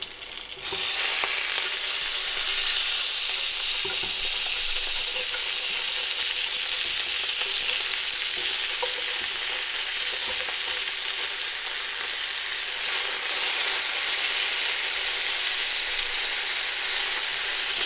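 Salmon steaks frying in oil in a pan, a loud, continuous crackling sizzle that holds steady from start to finish with no voices.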